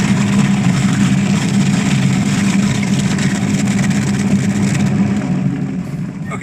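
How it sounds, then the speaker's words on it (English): Apple grinder with a spinning toothed drum crushing apples for juice in rural Sweden; a loud, continuous mechanical rumble and grinding drone that stays steady, then eases slightly at the end. "the spinning wheel is like grabbing the apples, but there's some teeth that are on the other side"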